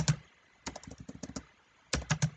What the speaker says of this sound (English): here now we will type